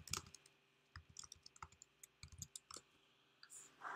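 Code being typed on a computer keyboard, with quiet, irregular bursts of key clicks in short runs and pauses between them, close and alone.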